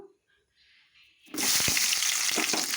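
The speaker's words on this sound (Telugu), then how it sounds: "ఆయిల్ వేసుకున్నాను నేను అలాగే ఉల్లిపాయలు అనేది వేసేసుకుందాం ఇందులో" Sliced onions drop into hot oil in a kadai: after a near-quiet start, a loud, dense sizzle bursts up and holds steady, with a few soft knocks from stirring.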